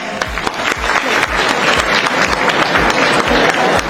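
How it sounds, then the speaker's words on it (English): Applause from a standing audience at a Philippine back-to-school ceremony honoring education officials, a loud, steady wash of many hands clapping with no speech over it. "we will all gather here together and clap for them"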